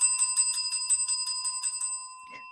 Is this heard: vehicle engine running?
no